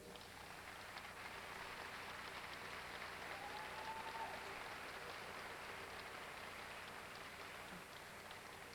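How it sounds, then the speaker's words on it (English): Steady applause from a pageant audience at Miss Gay America 1990, a continuous even patter of clapping at moderate distance that runs the whole time, with a faint voice briefly over it. "I'd like to give her a warm round of applause, Miss Kim Alexis."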